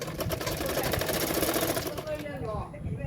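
A sewing machine stitches blouse parts together with a half-inch seam margin, a fast rhythmic whir that runs strongly and then eases off near the end, with a voice partly over it.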